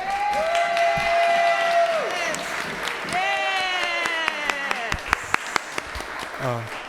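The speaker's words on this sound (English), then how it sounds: "Let's give all of our honorees a big round of applause." Applause and cheering for honorees at a city council meeting, with sustained voices whooping over the clapping and a few sharp, distinct claps near the end.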